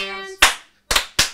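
Hands clapping during a song, a single crisp clap followed by two quick claps after a brief sung note fades, near and loud.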